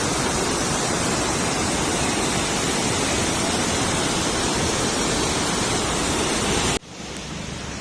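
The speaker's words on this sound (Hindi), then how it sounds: "दोस्तों आप लोग देख सकते हैं ये नहर, और इसमें पानी आ रहा है।" Water pours through a canal at a canal junction near the Chenab river, a loud, continuous hissing rush that stops abruptly near the end, leaving a quieter background.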